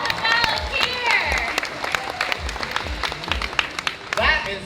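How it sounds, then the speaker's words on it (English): An audience at the Flights of Wonder bird show at Disney's Animal Kingdom applauds a volunteer. The clapping is patchy and sits under lively talking from a presenter throughout. "Round of applause for my awesome volunteer."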